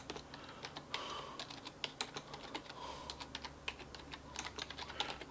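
Rapid keystrokes on a computer keyboard, irregular bursts of clicks and taps close to the microphone, with no talking.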